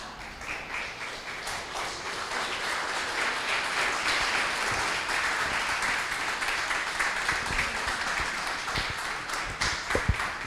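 A conference audience applauds presenters after a talk on the Russia-Ukraine crisis: a continuous, moderately loud wash of clapping that runs the whole length, with a few sharper claps near the end.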